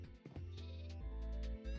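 Sheep bleating in the modded game Modern Skyblock 3, with several loud, close bleats following one another in quick succession over steady game background sound.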